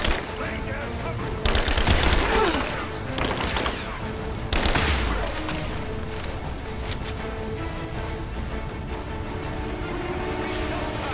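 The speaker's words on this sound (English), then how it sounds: "We're under fire!" Rapid gunfire rattles through a firefight in the video game Rise of the Tomb Raider, with loud bursts near the start and at the midpoint, then settles into continuous lower shooting, while voices shout faintly under the din.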